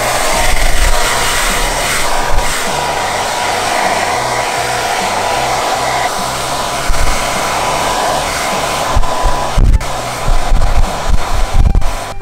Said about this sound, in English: We need a hair dryer now.